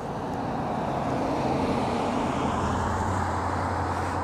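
A KingSong 18XL electric unicycle with an upgraded 2200-watt motor is ridden at speed, heard as a steady, loud rush of wind and rolling noise with no distinct motor whine, constant from start to finish.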